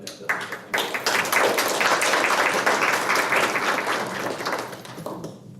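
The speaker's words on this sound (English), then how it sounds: "I think you guys deserve a round of applause for getting that" People at a school board meeting give a short round of applause, a moderate burst of clapping that builds quickly, holds, then tapers off.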